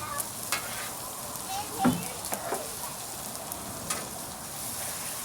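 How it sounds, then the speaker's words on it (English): Paella stirred on a Blackstone griddle, a spatula scraping and clinking through rice over a steady background sizzle, with a few sharper scrapes near the start and a faint voice underneath. "I'm going to give it one last stir, even though I said I wasn't going to"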